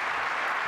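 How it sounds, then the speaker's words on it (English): Audience applause for Professor Taner Akçam after a keynote lecture, a brief steady wash of dense crowd clapping at even loudness. "Let's give Taner a great round of applause"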